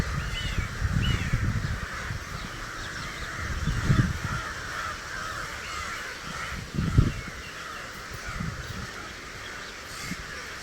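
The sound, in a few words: crows cawing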